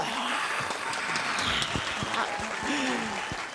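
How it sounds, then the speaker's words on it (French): A studio audience gives a short round of applause for Dominique, a dense patter of clapping with a few voices and laughs mixed in. "une salve d'applaudissements pour Dominique"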